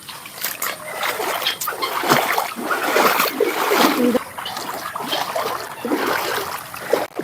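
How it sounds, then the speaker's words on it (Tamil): Floodwater from Cyclone Ditwah rain flows along a road that has merged with an overflowing pond, a continuous loud splashing rush close by. "தண்ணி வந்து பார்த்தீங்கன்னா இப்படி போகுது ஒரு பக்கம்"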